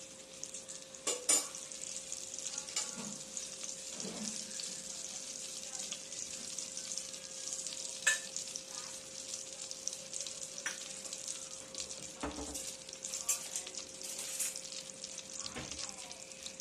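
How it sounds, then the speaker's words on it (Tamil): Butter sizzles in a pan on the stove, a continuous close fry crackle with occasional clinks and scrapes of a spoon against the pan throughout. "இப்போ நான் வந்து ஓட்டை அடுப்பில் வச்சுட்டு பட்டர் போட்டிருக்கேங்க"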